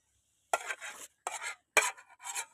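A curry pot lifted off the stove, giving four short, close scraping and clanking bursts of metal cookware separated by brief silences.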